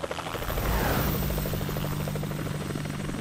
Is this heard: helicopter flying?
yes